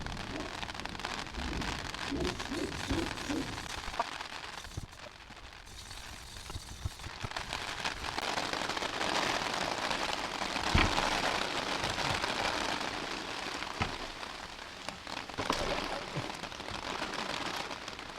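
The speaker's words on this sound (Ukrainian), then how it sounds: "О, дощик пішов." Steady rain patters outdoors onto an umbrella, a dense continuous hiss of drops with occasional louder taps, fairly close and even throughout.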